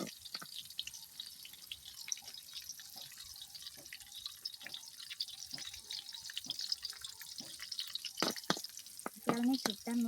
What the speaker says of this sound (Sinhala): චුට්ටක් මේක බැදෙනකම් ඉන්නවා